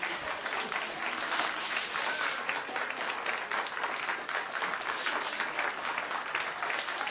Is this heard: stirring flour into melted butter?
no